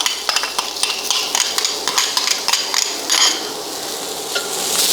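Onion and garlic fry in hot olive oil in a new pan for a seafood paella, giving a bright, steady sizzle broken by repeated clacks and scrapes of a utensil stirring against the pan.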